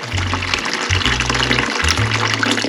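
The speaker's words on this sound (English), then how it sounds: "you take the water from the barrel and you put a little bit into the bucket" Water is poured from a large barrel into a bucket for a bucket shower, several separate sloshing pours in quick succession with short gaps between them, close and fairly loud, with no talking.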